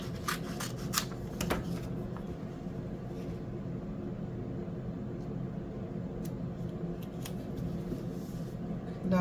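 Scissors snip paper in two with several sharp cuts early on, followed by quieter scattered snips over a steady background hum.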